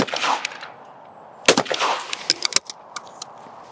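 A Browning shotgun fires in two loud, sharp reports about a second apart, each followed by a short echoing decay over quiet outdoor background noise.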